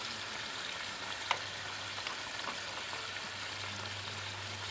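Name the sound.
pan frying food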